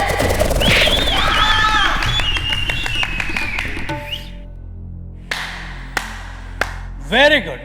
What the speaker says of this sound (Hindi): अभी तो ऑडियंस तालियां और सीटियां बजा रही है